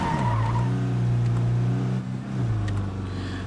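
A car drifts in State of Decay 2: loud, sustained tire squeal over a steady engine drone, easing slightly near the end, with no one talking.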